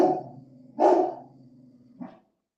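A young female dog barks in a loud burst near the middle, with a shorter bark toward the end, over a steady low hum at a ranch.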